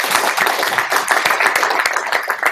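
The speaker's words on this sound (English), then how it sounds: "So round of applause for Timmy." Audience at a student union meeting clapping, a dense, continuous round of applause from many hands, fairly loud and steady for the whole stretch.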